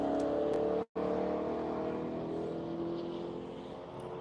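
A Corvette race car on a track pulls away with a steady droning engine note that climbs gradually in pitch, cut by a brief dropout of sound partway through, heard fairly close with no talking.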